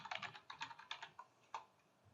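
A search being typed on a computer keyboard: a close, quiet run of key taps in small bursts, then a single firmer keystroke and a short pause.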